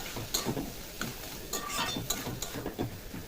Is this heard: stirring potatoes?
yes